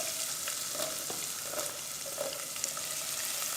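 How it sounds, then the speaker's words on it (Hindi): Garlic and onion fry in hot oil in a pan, making a soft, continuous sizzle with faint crackles and occasional light stirring, heard close but fairly quiet with no voices. "लहसुन डालेंगे और इसको फ्राई करेंगे।"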